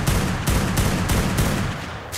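In ARK: Survival Evolved, close and loud gunfire crackles out as a rapid volley of bursts, several quick shots in a row over a busy background.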